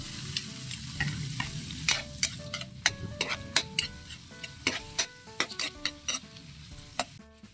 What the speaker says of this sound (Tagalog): Sunod na natin yung bawang, sibuyas, saka luya, saka kamatis